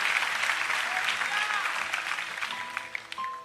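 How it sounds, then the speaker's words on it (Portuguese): A church congregation at a night vigil claps in dense, sustained applause that swells and then thins out. Voices are heard through it. "uma linda salva de palmas"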